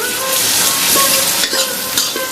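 A whole tomato drops into hot oil in a pan of chicken curry, raising loud, dense sizzling and frying with some stirring scrapes, close and continuous without speech.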